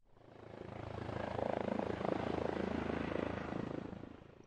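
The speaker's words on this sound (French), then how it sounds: "Ensuite, un hélicoptère." A helicopter's steady whirring rotor drone from the video game Keep Talking and Nobody Explodes holds at an even level throughout, with a dense rumbling texture and no voices.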